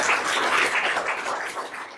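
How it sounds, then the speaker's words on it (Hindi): An audience breaks into steady, dense applause to welcome a guest, a UPSC CAPF AIR 250 achiever from Morena, with loud clapping sustained for about two seconds before easing off slightly at the end. "सभी जोरदार तालियों से स्वागत करें"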